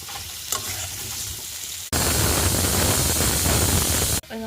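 Potatoes fry in a pan with a loud, close, hissing sizzle that swells suddenly and continues steadily, after a quieter stretch of softer frying, with no talk.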